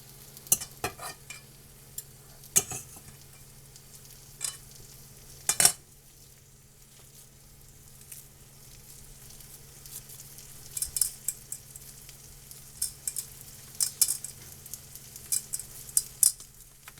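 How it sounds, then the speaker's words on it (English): Tuna patties fry in a pan with a soft steady sizzle, broken by sharp scraping and tapping clicks from a utensil at irregular intervals, close and without talk. "Got some sizzle."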